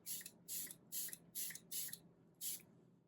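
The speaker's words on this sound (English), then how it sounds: "It has a fun pump too. Let's see. Ooh, it is a fine mist." Six short bursts from a fine mist spray pump on a frosted glass bottle, each a soft airy hiss, evenly spaced, near and quiet.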